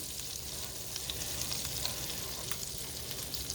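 French toast fries in a skillet with a soft, steady high hiss, faint and even throughout, with a few tiny crackles and no voices.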